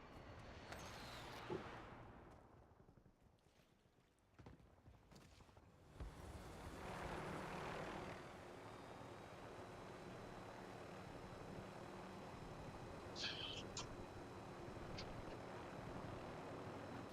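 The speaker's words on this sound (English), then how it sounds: "Okay, here's a helicopter." In Warzone, a helicopter's rotor and engine drone roll in after a brief lull and hold as a steady, fairly loud whir, with one short high clink near the end and no talking.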